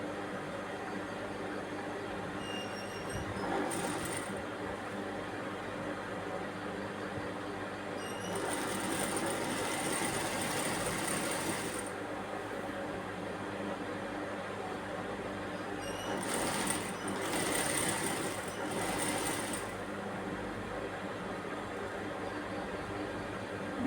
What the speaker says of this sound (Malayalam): ലൈനിങ്ങിൻ്റെ അടിഭാഗം മടക്കി അടിക്കാം കേട്ടോ.